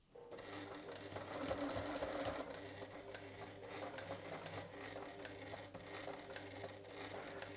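A sewing machine stitching a jacket runs a steady whirring, ticking stitch for several seconds, moving forward and backward at low volume.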